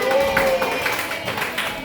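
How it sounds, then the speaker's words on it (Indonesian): Children in a primary school classroom clap together for a group of classmates, a steady mix of many hands at close range. Voices murmur underneath. "kita tepuk tangan untuk kelompok 2"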